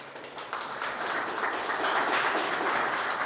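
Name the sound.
church congregation applauding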